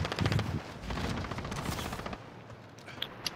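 Rapid automatic gunfire from Call of Duty: Modern Warfare, with dense bursts of machine-gun fire for about two seconds, then a few sparse single shots. The shots sound fairly quiet and are heard on their own, without talk.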